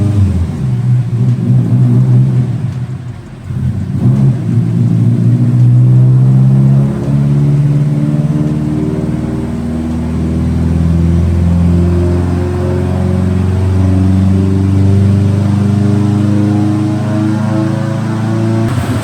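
A Mitsubishi Evo 8 engine running under load on a dyno, loud and close, with a rumbling tone that swells in long sustained revving sweeps, rising and settling repeatedly, with a brief dip early on.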